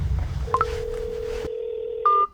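A phone number is dialed with a few short keypad beeps over a steady tone and background noise, then a longer tone near the end as the call connects.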